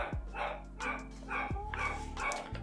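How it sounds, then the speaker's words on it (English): A dog barks a few times in short, loud, close bursts spaced over a couple of seconds, with whimpery tones between the barks. "my fucking dog is having a fit"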